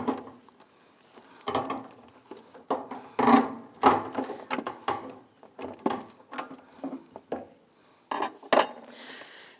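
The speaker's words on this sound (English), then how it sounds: "Now we'll go ahead and remove that lock ring." Fuel pump lock ring being worked loose on a 2013 Kia Soul, heard as close, irregular metallic clicks, taps and scrapes in quick uneven bursts against a quiet background.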